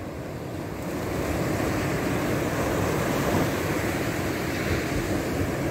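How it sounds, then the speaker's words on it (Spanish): Sea swell and surf rolling onto a beach during surfcasting, a steady broadband wash of breaking waves with wind, loud and continuous, with no talk. "parece que hay un poco de mar de fondo"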